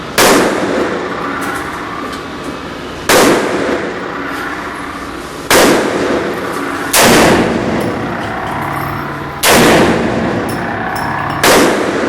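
Loud, sharp pistol shots from a Desert Eagle handgun, six separate reports spaced irregularly one to two seconds apart, each with a hard crack and a ringing outdoor decay.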